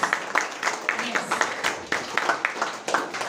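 Applause from a school audience at a Founder's Day celebration, with steady, dense hand clapping at moderate loudness and brief murmured voices mixed in.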